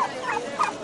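Turkeys gobbling at a livestock market in Tongi: two quick, close warbling gobble bursts, one after another, with nobody talking.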